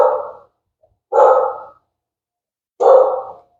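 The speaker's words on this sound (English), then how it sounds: "You might hear my dog barking in the background." A dog barks three times, each bark loud and close, spaced apart by short silences.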